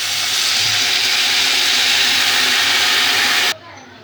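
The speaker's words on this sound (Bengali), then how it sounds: "এবার জল দিয়ে দেবো।" Water pours into a pan of frying curry with potatoes and okra, a loud, steady rushing hiss that stops abruptly after a few seconds and leaves quiet behind.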